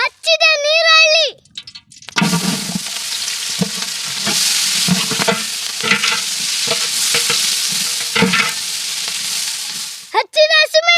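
Chopped onion in hot oil sizzles and hisses loudly and continuously while it is stirred, close by. A brief voice or music is heard at the start and end.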